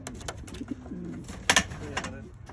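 Racing pigeons coo softly while landing back at the loft after a long race, low murmuring calls repeated over steady background noise with a brief louder flutter or clatter midway.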